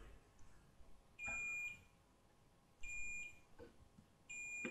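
Three short, steady electronic beeps from a continuity tester as its probes touch pins of a CP Plus DVR LAN socket, evenly spaced over a faint background hum.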